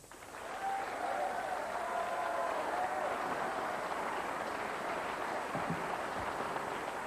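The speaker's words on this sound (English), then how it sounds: "a round of applause might be as well" A television studio audience breaks into sustained applause, a dense, even wash of clapping that swells within the first second and holds steady to the end.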